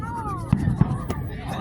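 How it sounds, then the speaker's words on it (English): Fireworks bursting over a lake at an Independence Day show, heard as a few sharp, fairly distant booms and pops spaced apart over a steady murmur of crowd noise. "And watch the fireworks."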